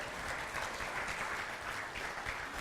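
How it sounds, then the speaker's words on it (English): Audience applause for the speakers, a faint, steady wash of many hands clapping together from a distance, with no voices standing out. "one more round of applause for the speakers, everybody"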